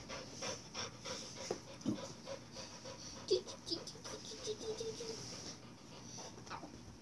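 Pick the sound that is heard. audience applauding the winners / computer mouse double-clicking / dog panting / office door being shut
dog panting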